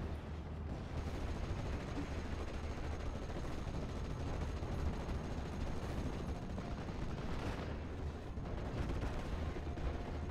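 Continuous rumbling barrage of Nebelwerfer rocket artillery in a World War II strategy game, a dense, steady wall of distant blasts and crackling fire that holds loud for the whole stretch with no clear gaps.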